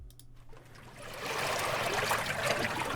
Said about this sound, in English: So I've got some water sounds here.